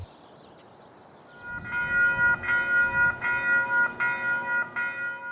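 A South Shore Line passenger train rolls past, its steady rumble building after about a second and a half, with a sustained multi-tone horn chord sounding in repeated long blasts over the running noise.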